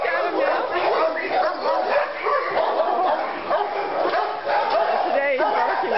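A Lab mix dog in an animal shelter barking at another dog in a kennel, with repeated sharp barks, yips and whimpers from several dogs echoing loudly over a person talking.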